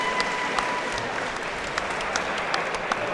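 Steady applause from an audience fills the hall for two kickboxers after three rounds, continuous and fairly loud with a few sharper claps and light crowd noise.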